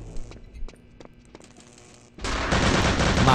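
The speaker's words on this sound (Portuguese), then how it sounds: "Vai começar a trocação de tiro, velho." Gunfire exchange in Return to Castle Wolfenstein on Android, sparse scattered shots giving way after a couple of seconds to a loud, dense sustained burst of automatic fire.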